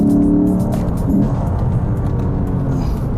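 A 2015 Lexus RC F engine pulls hard under acceleration in manual shift mode, a loud, steady growl that holds throughout with no pause or talk over it.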